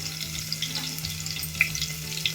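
Hot oil sizzles and crackles steadily as chopped garlic fries in a pan, with occasional sharp pops, close and moderately quiet, no voices.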